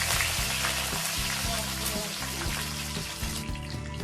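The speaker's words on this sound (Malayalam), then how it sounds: "ഇതിലേക്ക് ഒരു 2 സ്പൂൺ കടുക്, അതിലേക്ക് നമുക്കൊരു 5 വറ്റൽമുളക് ചേർക്കാം." Mustard seeds and dried red chillies sizzle in hot coconut oil for a Kerala sambar, a dense, close frying hiss that runs steadily throughout, with faint crackles. No one speaks.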